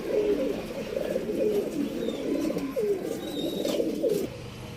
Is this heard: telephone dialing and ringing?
no